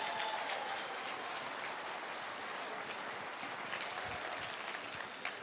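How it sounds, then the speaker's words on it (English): An audience gives a round of applause at a speaker's live event, a fairly soft, even wash of clapping that carries on for several seconds. "Give her a round of applause."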